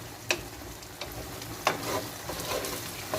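Rice toasting in a pan with salt for pilaf gives a steady dry sizzle, broken by a few sharp scrapes and taps of a utensil stirring the grains.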